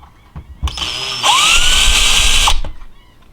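A power drill bores holes in aluminum during assembly of a Folgertech FT5 3D printer: a loud, steady whine lasts over a second with a rising pitch, framed by brief clicks and handling noise close by.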